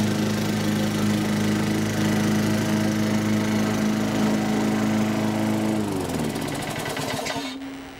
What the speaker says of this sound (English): I thought I'd cut the lawn one last time.